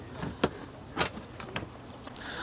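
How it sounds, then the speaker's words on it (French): The light plastic door of a side-by-side off-road vehicle is opened, giving a few faint clicks and knocks, with one sharper latch clunk near the middle. "On va ouvrir la porte si tu veux."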